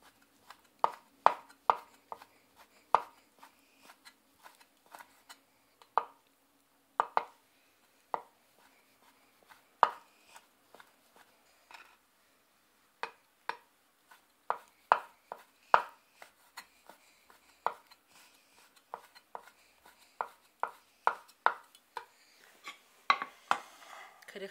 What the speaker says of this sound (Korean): 앞에서부터 가늘게 채를 썰어줍니다